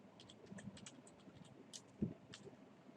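Typing on a computer keyboard while entering program source code into Notepad: quiet, irregular clicks of individual keys with one louder thump partway through, faint and alone without speech.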